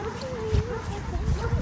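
A puppy at an animal shelter gives a couple of short whimpering yips, fairly close and soft, while people talk over it.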